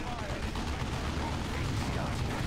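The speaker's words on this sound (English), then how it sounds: "that's a heavy cannon on their side" Heavy cannon fire in Warhammer 40K: Dawn of War 2, dense rumbling battle blasts and gunfire packed together in a continuous barrage with no clear gaps.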